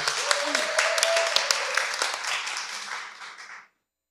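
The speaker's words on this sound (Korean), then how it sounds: "자, 박수" An audience at a public broadcast claps before a song begins, a moderate spread of claps with a voice briefly over it, fading out and stopping abruptly near the end.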